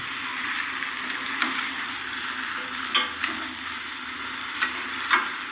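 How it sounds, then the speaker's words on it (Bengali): Cauliflower and potato sautéing in spice paste give a steady, moderate sizzle in the pan, with a few sharp clinks and scrapes of stirring scattered through. "এবার দিয়ে দিচ্ছি কপিগুলো আলু আর কপিটা মশলার সাথে সুন্দর করে কষিয়ে নেব"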